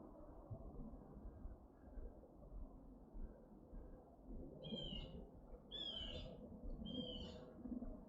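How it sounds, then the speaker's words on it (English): Large birds call in a Florida forest at a nature center, with a few loud raspy calls in the second half over a low rumbling background of distant noise. "Got some big bird noise"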